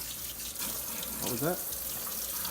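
Cold tap water runs steadily into a kitchen sink while raw turkey parts are rinsed under it, a constant close splashing rush with people talking over it.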